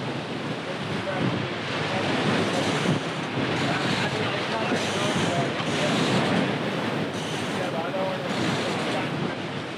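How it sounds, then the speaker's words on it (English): Heavy Atlantic ocean waves bash against a sailboat while strong wind roars across the microphone, a continuous loud broadband wash of surf and gusts with no clear pauses. "we're drowned out by the bashing waves and wind"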